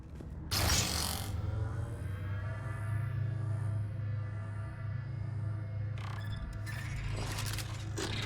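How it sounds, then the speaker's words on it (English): Elevator machinery in the video game Mass Effect 3, a steady low mechanical hum with faint whining tones running throughout, and brief rattling metallic bursts near the start and end. "Surprised they use elevators, to be honest."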